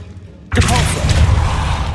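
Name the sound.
Depulso force spell cast in Hogwarts Legacy video game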